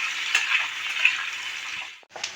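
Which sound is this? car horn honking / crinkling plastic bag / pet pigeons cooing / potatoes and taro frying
potatoes and taro frying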